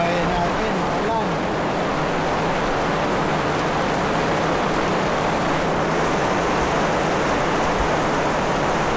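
Steady rain falls in a dense, continuous hiss that stays loud and even throughout, with no breaks.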